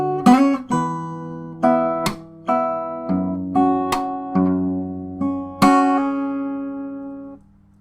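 Fingerstyle acoustic guitar arrangement of a song from Naruto Shippuden, bars 36 and 37, with about ten plucked notes and chords ringing out in a steady melodic line, close and clear, ending on a sustained chord.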